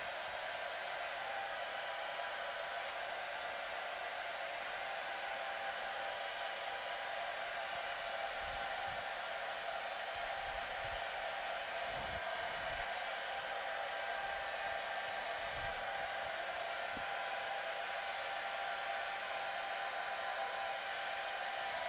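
A heat tool set to low and warm blows a steady, continuous airflow to dry a chalk craft project, a constant hiss-like whoosh running throughout with no talking.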